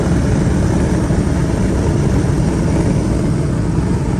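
A 1994 Mercedes-Benz S600 accelerates at full throttle, its engine a loud, steady, close roar that fills the whole few seconds with no talking.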